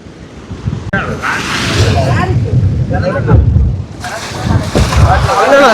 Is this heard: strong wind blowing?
yes